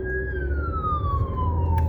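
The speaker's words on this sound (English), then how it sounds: "That's the third ambulance I've seen today." An ambulance siren wails with a single long tone sliding steadily downward as it passes, loud over low engine rumble from a rideshare car.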